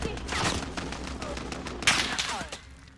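Rapid turret gunfire in the video game Call of Duty: Modern Warfare, with dense bursts of shots and sharp loud cracks, heard under excited talking in Portuguese.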